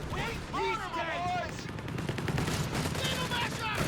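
Machine gun fire in the World War II strategy game Company of Heroes 3, rapid bursts and rattling volleys layered over battle noise while someone talks over it.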